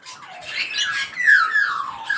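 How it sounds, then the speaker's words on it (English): Doves call from up in a tree in a series of bright, descending squawking calls, fairly close, with no voices. "Look at all those doves."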